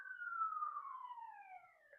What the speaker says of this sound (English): Excuse the police car.